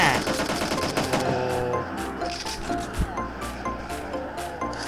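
Gunfire in the mobile video game PUBG Mobile, rapid bursts of automatic shots rattling over a busy game soundtrack, dense and fairly loud, with a sharper single crack near the middle.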